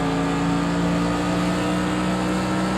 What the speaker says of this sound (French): Elle accélère bien la voiture devant.